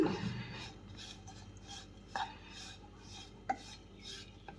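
A spatula stirs roasted grated coconut into ghee in a pan over a low flame while rava laddu is being made, giving soft scraping and rubbing with a few sharper clinks against the pan, quiet and close with no talk.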